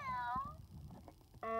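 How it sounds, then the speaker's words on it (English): A toy cat plays a short electronic meow, a brief tonal cry at the start and another beginning at the end, with quiet handling noise between. "Now this one goes meow."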